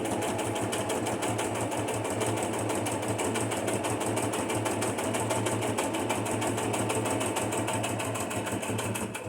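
A sewing machine stitches through paper for a junk journal, its needle hammering in a fast, even, continuous rhythm for over nine seconds, close and steady with no voices over it.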